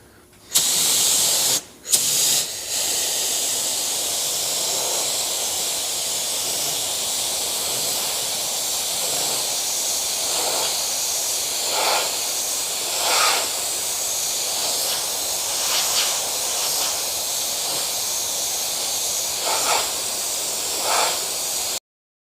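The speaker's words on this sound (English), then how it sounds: "Remember that the Roberlo M1 is a direct-to-metal primer, so we have no problem spraying over this bare metal." Spray gun laying Roberlo M1 direct-to-metal primer onto bare car body metal at low air pressure, a steady loud hiss running continuously with brief pauses near the start and small surges along the way.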